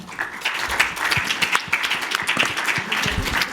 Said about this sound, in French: Félicitons et applaudissons cette salle.